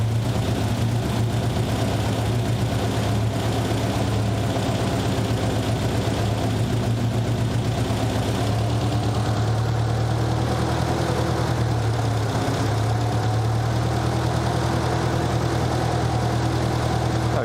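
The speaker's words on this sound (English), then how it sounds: "I feel like the idle definitely came down when we took all that timing out of it" A Nissan 200SX engine idles at a steady, low rumble with an even, continuous drone and no change in pitch, with no one speaking.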